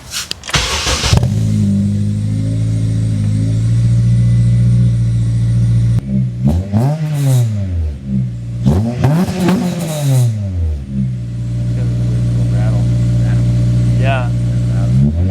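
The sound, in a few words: Acura RSX Type-S engine revving with 1320 Performance header and exhaust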